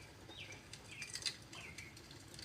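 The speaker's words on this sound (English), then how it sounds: "Even the birds trying to contribute. I heard them outside my window." Birds outside a window give faint, thin chirps and short descending tweets, distant and quiet over a low background hum.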